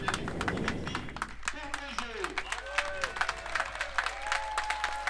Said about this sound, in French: sportivement, il applaudit l'adversaire